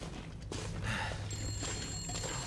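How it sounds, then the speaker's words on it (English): A telephone rings in the video game The Long Dark, a thin electronic ring that begins partway through over a dim, rumbling game ambience. "There's the phone ringing."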